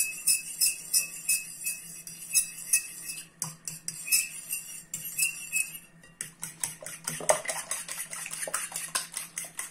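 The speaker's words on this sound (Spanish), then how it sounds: "Y ahora a continuación vamos a batir lo que es el huevo" A whisk or fork beats eggs in a bowl, producing fast rhythmic metallic clinks and tapping strokes against the dish, close and steady with no voices.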